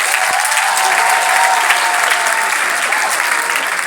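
Steady, dense audience applause filling a hall at an awards ceremony, loud and continuous with no breaks.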